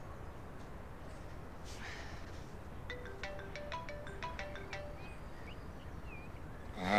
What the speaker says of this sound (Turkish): Aha, Halim arıyor.